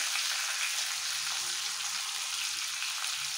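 Sliced radish frying lightly in hot oil for a rohu fish curry, a dense, steady, close hiss of sizzling with no breaks or voices.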